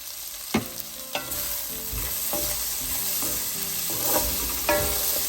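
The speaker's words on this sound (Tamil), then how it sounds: "சேர்த்துட்டு வதங்க விடுவோம் அப்போ தான் இந்த தூள் மணம் எல்லாம் போகும்" Onion and vegetables sautéing in a pan with chili powder and turmeric for millet fried rice, a loud steady sizzle broken by several sharp spoon scrapes and knocks against the pan, close up.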